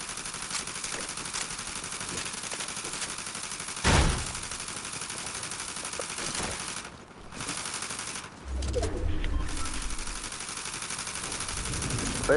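Fortnite gunfire rattles steadily in a match, a faint continuous spray of distant shots with one sharper crack partway through and a low rumble near the end.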